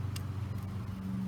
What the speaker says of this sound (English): Some people just have loud cars.